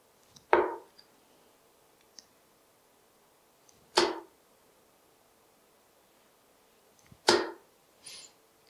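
Winmau Joe Cullen Ignition Series darts strike a dartboard in three well-spaced, crisp thuds, each a sharp close impact separated by a few seconds of quiet, with faint small clicks between and no talking.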